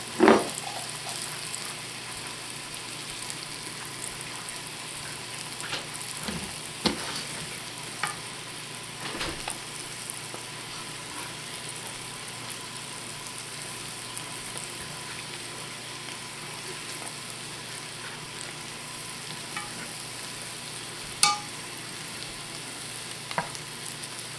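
Pork brains fry in a pan with a steady, busy sizzle throughout, broken by a few louder pops and spatters, close and without voices.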